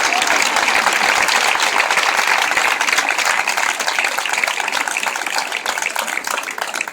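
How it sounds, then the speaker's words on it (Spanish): A large outdoor crowd at a Podemos political rally in San Blas-Canillejas, Madrid, applauds continuously, a dense wash of clapping that stays loud and steady before easing slightly near the end. "Un aplauso para vosotros."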